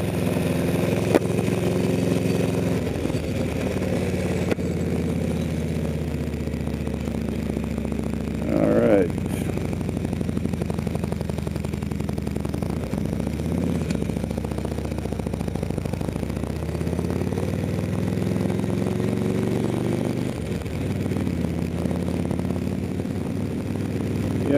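A 20-year-old Beta HD motorcycle engine runs steadily during a test ride, a constant mid-pitched drone with slight swells in throttle, heard close and continuous throughout.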